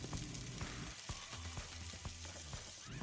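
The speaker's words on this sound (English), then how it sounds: "the rest of these pepper and onion mix I'm going to saute up" A pepper and onion mix sautéing in a pan, a soft, steady sizzle with occasional light utensil clicks, close but fairly quiet with no voices.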